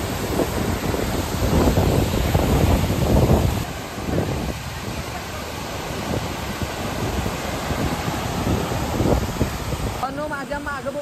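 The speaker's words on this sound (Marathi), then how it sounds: "पाणी तर असलं पडतंय का नाही शेवट." Water pours and rushes at Kandavan dam in Shahuwadi, making a loud continuous roar mixed with wind buffeting the microphone, with a voice talking over it.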